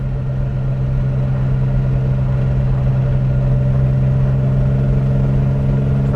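A 1959 Aston Martin DB4 Series 1 coupe cruising on the road, a steady, even engine drone with road noise, heard from inside the car with no talking.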